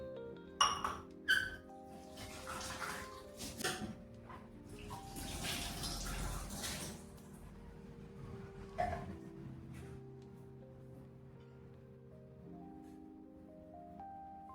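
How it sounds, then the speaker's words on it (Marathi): Steel cups and vessels are washed in water, with scattered metallic clinks and knocks, splashing and a stretch of running water, fairly quiet and close. "आता मी हे सगळे भांडे धुईला काढलेले कारण की याच्यावरती खूप धूळ बसलेली होती"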